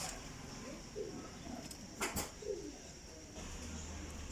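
A Ferozpuri cross pigeon coos softly a few times nearby, a quiet rolling call against faint background noise.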